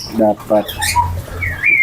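An oriental magpie-robin of the santet type sings in short clear chirps and whistled phrases, close and fairly loud, with a low hum running underneath.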